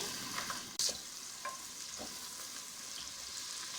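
Two medium onions fry in about a quarter cup of oil in a pan for khaga fish curry, producing a soft continuous sizzle with a couple of brief clinks and stirring scrapes.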